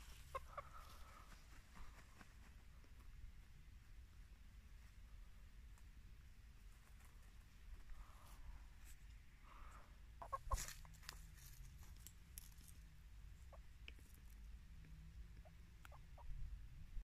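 Domestic chickens clucking outdoors, with faint, scattered clucks and rooster-like calls over a steady low background rumble, growing a little louder near the end.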